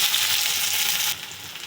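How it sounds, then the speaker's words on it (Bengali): Onion goes into hot oil with caramelised sugar in a kadai for an egg tadka. It gives a loud, dense sizzling hiss that drops to a softer sizzle after about a second, with no talking. "এবারে দেবো পেঁয়াজ।"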